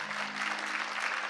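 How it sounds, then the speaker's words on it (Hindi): Enthusiastic applause welcoming guests at a Shyam bhajan gathering in a temple, a dense wash of clapping from a crowd, steady and fairly loud over a faint sustained tone. "जोरदार तालियां बजाकर स्वागत करें"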